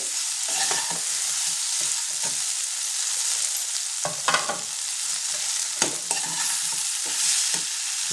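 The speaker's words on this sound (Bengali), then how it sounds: "একটু নেড়ে নেব।" Vegetables sizzling steadily in a hot pan while a spatula stirs and scrapes them in short, irregular strokes, close and continuous with no voices.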